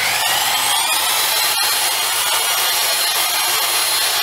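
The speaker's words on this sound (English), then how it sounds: "Just a simple wire wheel on a drill." A wire wheel spun by a drill scours metal clean, a continuous loud, hissing whir that holds steady throughout with a brief dip partway.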